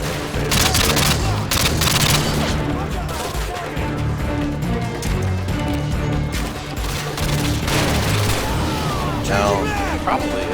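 A UMP-45 submachine gun firing in Call of Duty: Modern Warfare 2 on Xbox 360, loud repeated automatic bursts with booms and battle noise, a voice talking throughout over the shooting.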